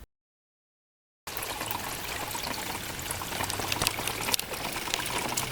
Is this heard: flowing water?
yes